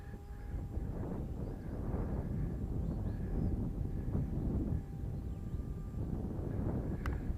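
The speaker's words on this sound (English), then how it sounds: "It's a shame it's a bit windy for this test." Gusty wind buffeting an outdoor microphone during an RC plane flight test, a continuous low rumbling roar that rises and falls in waves, with no talking.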